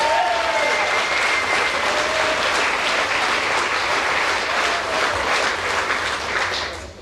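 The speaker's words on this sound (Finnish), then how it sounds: "Ja siitä kunnon aplodit!" Loud, dense applause from a large studio audience at a 1993 Finnish Gladiaattorit TV show, a steady roar of clapping that holds throughout and eases slightly at the very end.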